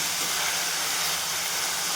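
Coriander and chopped tomato sautéing in hot oil in a home kitchen, a steady broadband sizzle and hiss that holds evenly and fairly loud throughout, with no voices.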